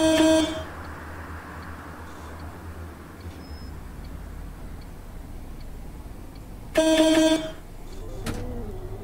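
Two short, bright bus horn honks in the OMSI 2 simulator game, on a MAN bus in Vienna, one at the start and another near the end, over a low steady engine hum.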